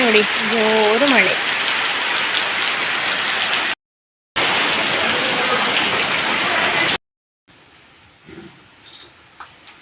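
Heavy rain roars in a loud, steady wash of noise, broken by a brief gap, with a person's voice over it at the start; the rain then cuts to a much quieter scene.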